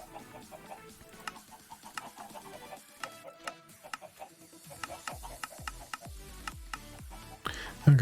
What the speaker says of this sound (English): You'll just have to ignore the chicken noises